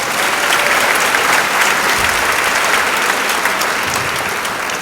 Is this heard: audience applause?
yes